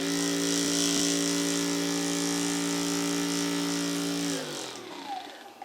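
A cordless Turonic G5 deep tissue massage gun drones with a loud, steady motor whine for about four seconds, then winds down and stops, leaving only faint handling noise.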